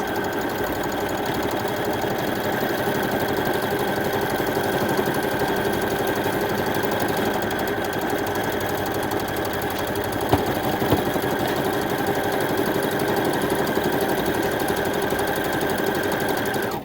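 A Brother BC2100 computer sewing machine stitching a buttonhole automatically, a continuous rapid mechanical whir and clatter of the needle running steadily close by.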